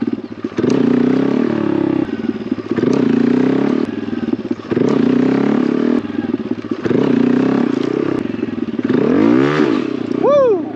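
A Honda Grom motorcycle during a wheelie attempt, its small engine revving in steady loud bursts with brief breaks for shifting, ending in a sharp rising whine, with faint clatter throughout.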